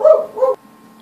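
Indoor house dogs let out two short, close barks in quick succession, followed by a quiet room hum.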